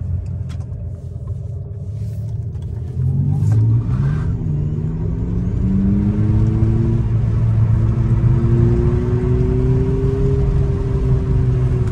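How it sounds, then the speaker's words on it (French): Artificial engine sound from an Abarth 500e electric car, a low synthetic rumble at idle that rises into a swelling, revving tone as the car accelerates, loud and close, with someone talking over it. "Écoutez là, voilà, le ralenti qui reprend le dessus."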